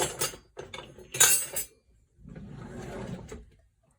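Kitchen utensils clatter and clink as a small spatula is picked out of a holder beside a crockpot of refried beans, a few quick metallic rattles near the mic, then a softer scraping shuffle.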